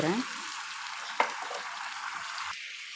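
A spoon scrapes and stirs thick wheat halwa sizzling in a hot pan with ghee and hot water, with a steady frying hiss and one sharp knock partway through.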